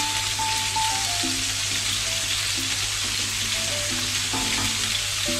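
Lamb kofta patties sizzle steadily in a frying pan, a continuous close crackle and hiss of hot fat with a low background hum and no talk.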